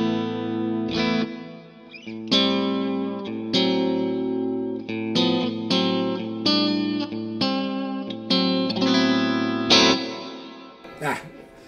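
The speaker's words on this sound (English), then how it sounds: "The reverb in the Big Sky MX." An electric guitar runs through a Strymon Big Sky MX plate reverb preset, playing a series of sustained chords and notes whose smooth, lingering tails wash into each other, ending with a few brief bent notes.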